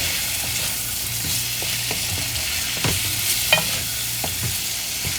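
Potatoes and carrots for tiffin sambar are stirred with spices in a frying pan, giving a constant sizzle punctuated by irregular scraping and clacking stirs close by.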